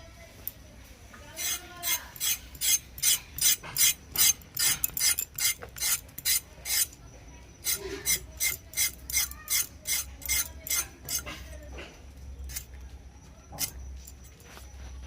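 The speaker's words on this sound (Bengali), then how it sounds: "এইবার আমরা পটলটাকে কেটে নেব" Pointed gourd (potol) sliced with a knife on a board, a quick run of crisp, close cutting taps in steady bursts separated by short pauses, with no voices.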